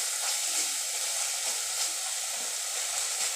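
Cumin spice paste frying in a pan over low heat for a pabda fish curry, a steady, close sizzle and hiss continuing without a break and with no voices.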